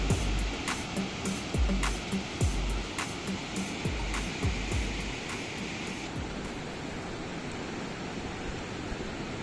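Sea waves at a beach in Lagos, Portugal, with a steady broadband wash of surf and repeated low thuds as waves break nearby, continuous and fairly loud throughout.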